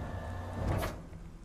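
A door slides open in the SCP Unity video game, a single soft whooshing sweep that swells briefly midway over a low steady background hum.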